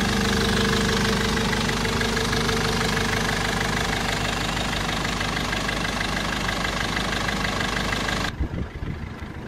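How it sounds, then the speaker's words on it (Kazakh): A 2002 Mercedes Sprinter passenger minibus engine idles steadily and loudly with a rough, knocking rumble, running continuously before cutting down sharply near the end. "Мотордун дагы угулушун көрсөтүп коеюн сиздерге."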